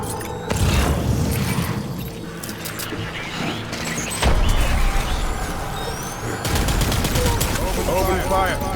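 Sustained gunfire and explosive bursts from a firefight in the video game Death Stranding Director's Cut, loud and dense with rapid automatic fire, booms and mechanical clatter, and some voices mixed in under the chaos.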